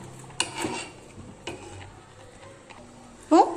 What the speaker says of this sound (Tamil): நல்லா கிண்டி விட்டுட்டே இருங்க